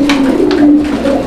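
A male pigeon coos up close and loud, a short throaty rolling call with a couple of pulsing rises, heard alone.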